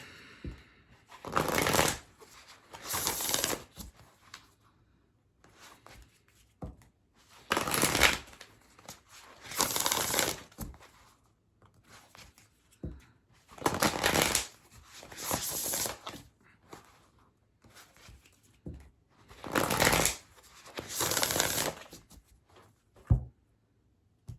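Oracle cards from the Bone and Earth Oracle deck are shuffled in repeated bursts, each a crisp riffling flutter lasting a second or two, separated by short pauses, close and fairly loud throughout.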